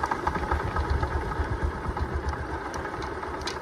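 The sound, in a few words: motorcycle engine idling at a stop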